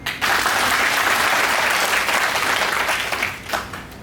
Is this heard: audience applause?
yes